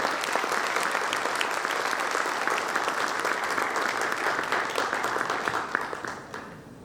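Sustained applause from a seated audience welcoming a guest speaker onto the stage at an HR conference, dense and steady throughout before tapering slightly at the end.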